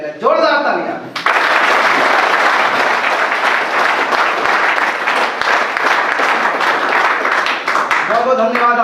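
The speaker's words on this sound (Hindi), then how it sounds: "जोरदार तालियां।" An audience at a motivational speech for a company launch bursts into loud, sustained applause right after a short spoken line, the dense clapping holding steady for several seconds before a voice resumes at the end.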